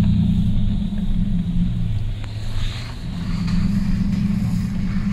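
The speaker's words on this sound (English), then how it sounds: "There's the big truck that takes the new make spirit from the distillery to the warehouse for barreling" Big truck hauling new make spirit from a distillery to a warehouse, its heavy, low engine rumble close and steady, dipping briefly mid-pass before building back up.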